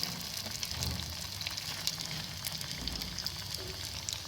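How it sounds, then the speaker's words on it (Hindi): Potato garlic rings frying in two cups of hot oil in a pan, a steady close sizzle and crackle with light popping throughout. "इस तरह से 1 बाय 1 हमने तमाम को फ्राई कर लेना है।"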